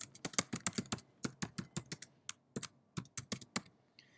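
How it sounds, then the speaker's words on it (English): Close, quiet typing on a computer keyboard while entering title text in Final Cut Pro X, with rapid irregular key clicks in short bursts and brief pauses, no voices. "type in some new text"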